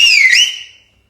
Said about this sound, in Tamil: அந்த மாதிரி விசில் அடிங்கன்னு கேட்கறாங்க